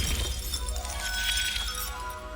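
Glass shattering in Hogwarts Legacy, a bright breaking crash with tinkling shards that carries on for about two seconds under a low game-music bed, no talk over it.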